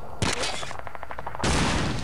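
Gunfire from a captured German weapon in a WWII shooter game, bursts of rapid shots with a rattling run in the middle and a loud sustained blast near the end, close and dense.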